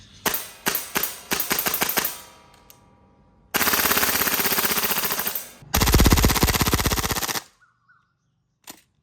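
A gas blowback MWS URG-I airsoft rifle fires several quick single shots, then two long rapid full-auto bursts, sharp, loud and close, ending with a faint click.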